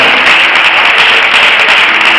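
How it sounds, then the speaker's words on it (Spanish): Loud, steady applause from a large crowd, dense continuous clapping filling the space with no voices standing out. "un aplauso fuerte."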